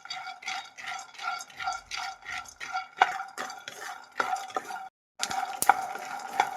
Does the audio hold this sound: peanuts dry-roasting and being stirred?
yes